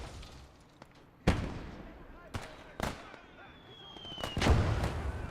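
Sharp, booming blasts of mortar and gunfire in the World War II game Gates of Hell: Ostfront, four loud impacts spaced a second or so apart over quieter battlefield rumble.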